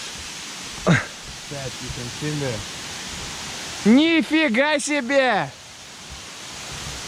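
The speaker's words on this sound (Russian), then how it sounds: "Там просто огромный водопад." A huge waterfall in Bali gives off a steady, dense rushing roar that fills the whole scene. People exclaim and talk briefly over it.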